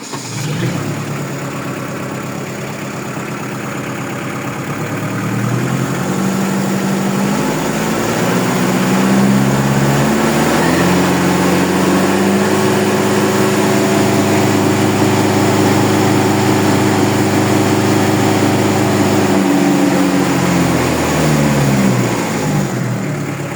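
A Tym T503 tractor's diesel engine cranks over, catches and settles into a loud, steady idle with a throbbing low rumble that holds for most of the stretch before easing slightly at the end, with no talking.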